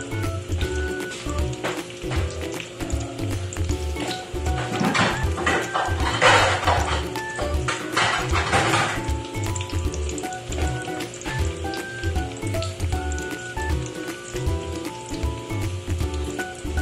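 Garlic frying in moderately hot oil in a pan while cooking chicken liver: a steady, dense crackling sizzle with scattered pops and small clatters throughout, with no voices.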